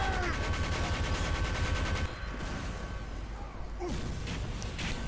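Reserve Shooter shotgun blasts in a team shooter video game, a rapid series of loud gunfire bursts in the first two seconds, followed by quieter game ambience and scattered effects.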